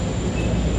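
An airport train rolls along with a steady rumbling hum and faint rail noise, heard briefly and close, with no talking.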